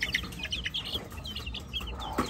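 Roosters and hens in a farm pen cluck and crow-chirp in close, overlapping bursts, a busy fowl chatter running steadily throughout with no voices.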